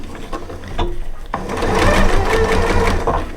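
A sewing machine stitches a small fabric tube for a reusable gift bag, a steady close mechanical hum that builds and holds after a brief start.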